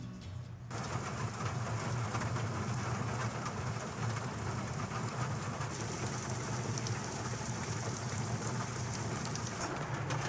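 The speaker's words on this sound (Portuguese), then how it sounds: "é gostoso também acordar com o barulhinho de chuva" Steady, heavy rain pours down in a constant dense hiss, drumming on surfaces close by, with a low rumble underneath and no voices.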